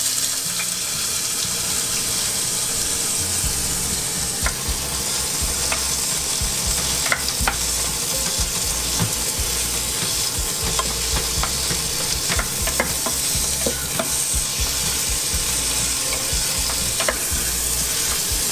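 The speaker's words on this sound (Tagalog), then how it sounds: "Ibubuhos ko na yung halo-halong kamatis," Chopped tomato, onion and garlic fry in smoking-hot oil for fried rice, giving a steady, loud broadband sizzle with occasional clinks and stirring scrapes throughout, no voices.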